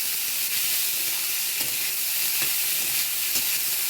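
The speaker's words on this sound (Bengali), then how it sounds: "তো এটা ভাতটা দিয়ে দিলাম, এইভাবে ভেজে নিলাম।" Rice fries with onions and chillies in a pan, a steady, loud, close sizzle with faint stirring scrapes throughout.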